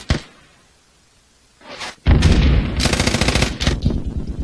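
Gunfire in the military shooter game Squad comes first as a single sharp shot, then after a pause as a loud, close, sustained burst of rapid automatic fire.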